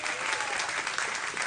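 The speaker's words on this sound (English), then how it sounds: "Round of applause for those guys." Brief steady applause from a small audience at a live radio broadcast event, a continuous close patter of clapping with faint voices underneath.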